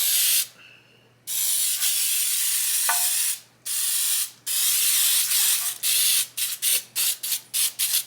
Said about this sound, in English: I use the baking spray with the flour.